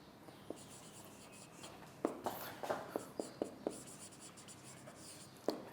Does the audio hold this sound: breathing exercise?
no